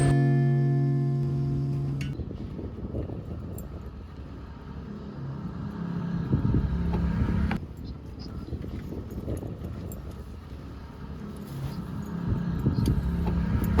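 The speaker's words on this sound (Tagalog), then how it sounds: "Sa bawat ikot ng gulong ng kotseng ito sa kalsada" A car drives along a road with a steady low engine and tire rumble, fairly close and continuous, its level rising and dipping slightly over about fourteen seconds with no talk.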